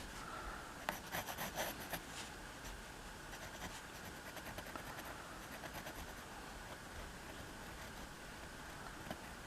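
Pencil lines being erased on drawing paper for a Gorgosuchus dinosaur sketch, a quiet dry rubbing and scratching with brief bursts of quick strokes, close and faint throughout.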